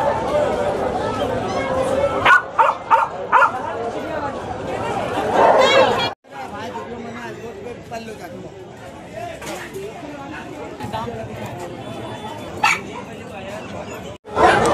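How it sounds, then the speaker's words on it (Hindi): Dogs at a crowded dog market at the Sonpur fair bark, yip and whimper repeatedly, close and loud, mixed with people talking throughout. "कुत्ता मिल रहा है।"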